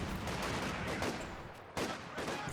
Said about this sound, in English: Picks off, snipes the sniper